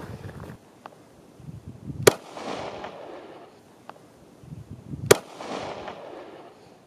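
Two sharp, loud gunshots from full metal jacket rounds fired at an AR500 steel armor plate in a plate carrier crack outdoors a few seconds apart, with echoing tails and faint background sounds between.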